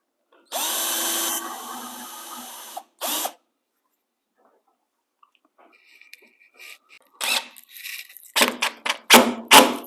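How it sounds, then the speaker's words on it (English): A power drill countersinks screw holes in a homemade bandsaw circle-cutting jig, giving two short bursts of whirring, then quiet, followed by a cluster of sharp clicks and brief tool noises building toward the end. "And you do want to countersink these because you don't want the heads of those screws sticking up."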